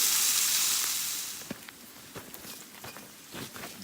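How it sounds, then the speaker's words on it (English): Asparagus frying in oil in a pan at an outdoor bushcraft lunch, a steady bright sizzle that fades slowly, with soft clicks and small pops scattered through it, close and fairly loud. "Loving on my asparagus, sizzling in the pan."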